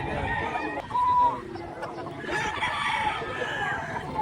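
A rooster crows once, fairly close, over a busy outdoor background with other birds and faint voices.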